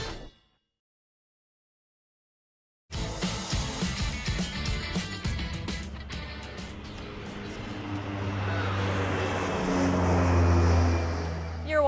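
A Turbo Beaver propeller plane flies overhead after a moment of silence, its steady engine drone building and growing louder as it approaches, with faint voices underneath.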